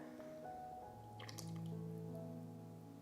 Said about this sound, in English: And now I'm going to just add in my wet ingredients as well. So I have a half a cup of melted butter.